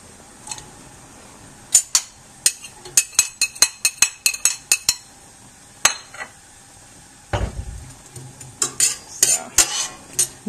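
A metal utensil stirs half an onion sautéing in oil in a pan, making irregular bright clinks and scrapes in quick clusters, with a duller thump partway through.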